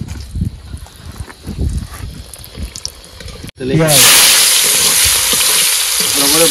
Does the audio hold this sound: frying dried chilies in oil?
yes